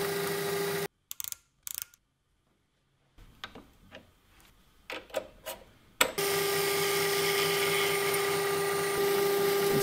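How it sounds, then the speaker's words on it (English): A machine drill bores a hole in a steel spindle with a steady high whine, broken by gaps and clicks of setup before running continuously again. "I need to measure how deep I'm drilling."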